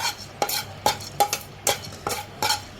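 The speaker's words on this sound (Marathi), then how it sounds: "आता आपण पुढची भाजणी बघूया ते पण छान भाजून घेऊया" Dry coconut roasts in a pan while a spatula scrapes and stirs it, giving sharp rhythmic scraping strokes roughly every half second over a faint background hiss, close and alone.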